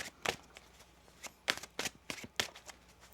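Tarot cards being shuffled by hand in a series of crisp, papery riffles and slaps, close and fairly quiet, with short pauses between bursts and no voices.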